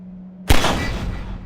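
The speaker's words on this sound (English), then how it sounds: "take out the firearm of your choice and shoot the device" A single loud gunshot from a firearm in Half-Life 2: Episode Two, sharp and close, cutting through a low hum and decaying into a rumbling tail.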